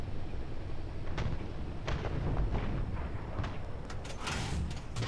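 Tank cannon fire in War Thunder, several sharp booming shots spread across a constant low engine rumble, one loud blast followed by further cracks and rolling echoes, with no voices.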